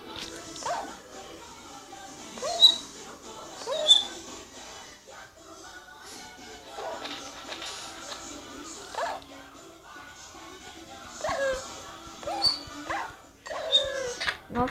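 A dog whimpers and yelps in short, high-pitched bursts in a video game, repeated several times over a steady low background.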